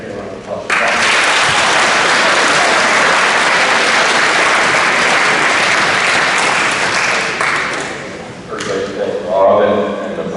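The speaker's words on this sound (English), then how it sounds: "Can I get a round of applause?" A large audience at a Notre Dame athletic awards ceremony bursts into loud, sustained applause lasting about eight seconds before fading. A voice then returns briefly at the end.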